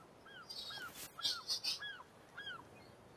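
A bird in the survival video game The Forest calls several times in short rising-falling chirps, faint and fairly distant over a quiet game ambience with a few sharper game sounds mixed in.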